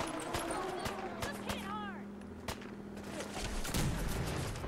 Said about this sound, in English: Oh god, it's shooting at us.